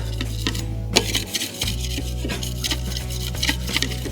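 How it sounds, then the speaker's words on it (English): Metal drywall mudding knife scraped clean against another knife, rough repeated scraping strokes close up over a steady low hum. "switch your knives and clean off the other knife"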